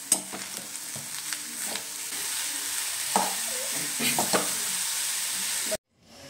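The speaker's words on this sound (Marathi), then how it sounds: "तूप घेतलं आणि मग किसलेलं खोबरं टाकलं, गूळ टाकलं त्याच्यामध्ये आणि छानपैकी परतवून घेतलं त्याच्यामध्ये" Grated coconut and jaggery being sautéed in ghee for modak filling, a steady soft sizzle with scraping stir strokes throughout, cutting off abruptly to silence near the end.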